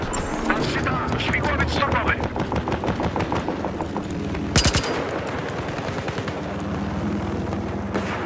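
Rapid automatic gunfire aimed down sights in Battlefield Hardline, fired in close repeated bursts, with one sharp louder blast near the middle and someone talking over the shooting.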